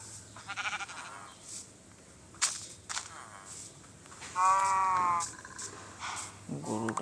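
A goat in a survival video game set at a Qurbani animal market gives several short, wavering bleats between bursts of rustling and clatter, with one longer bleat in the middle.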